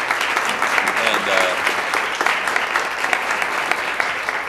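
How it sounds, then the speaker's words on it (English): An audience at an Oklahoma City City Council meeting applauds an honored employee, a dense, sustained burst of clapping filling the room, with a voice briefly heard over it. "How about a round of applause for John?"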